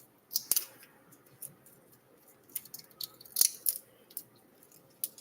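Kitchen scissors snipping along raw shrimp to cut out the veins, a scattering of short, crisp clicks and snips at close range, spaced irregularly over quiet background.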